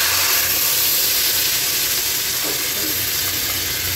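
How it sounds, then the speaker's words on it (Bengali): Water poured into a pan of fried potatoes hisses and sizzles in a steady, loud, continuous wash of steam, close up, with no voices. "একটু জল ঢেলে দিয়ে হালকা একটু জল দেবো, বেশি না, কেননা আলুগুলো ভাজা রয়েছে"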